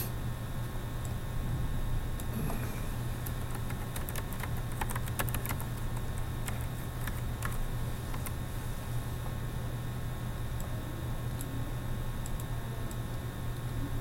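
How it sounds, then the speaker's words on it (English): Computer keyboard typing in a quiet room, a steady patter of soft clicks with a denser burst of keystrokes early on, under a constant low hum and no talking. "I'm trusting you guys to watch my typing because I can't actually see what I'm doing here."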